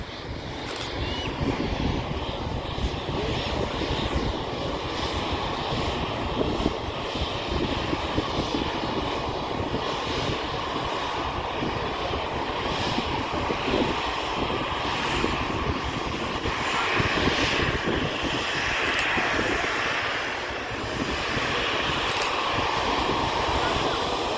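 An Embraer 190 jet airliner at Manchester Airport gives a loud, sustained engine roar that holds steady for over twenty seconds, with faint talk underneath.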